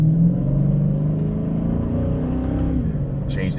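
A Dodge Charger Daytona 392 drives in manual mode, its engine a steady low rumble throughout, with a brief shift in pitch as a paddle-shifted gear change goes through.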